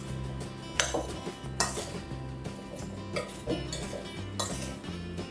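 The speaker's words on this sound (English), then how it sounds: "I'm just going to roughly combine this first to break up the sugar clumps" Rhubarb being mixed with sugar and a pinch of salt in a bowl, with repeated rhythmic clinks and scrapes of a utensil against the bowl, close and clear, with no talking.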